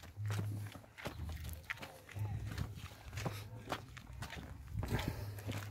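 Footsteps of people running outdoors toward a hill, steady thudding strides close by with a low hum and voices in the background.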